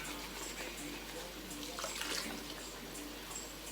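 Mussels scrubbed under running tap water at a sink, a steady, quiet wash of water with faint rubbing and splashing and no talk.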